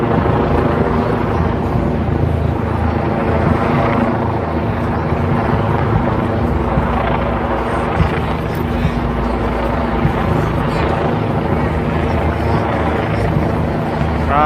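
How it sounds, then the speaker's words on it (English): A helicopter hovers low overhead on a New York City street, its loud, steady rotor thrum and engine drone filling everything evenly without letup. "And now we're right below the helicopter."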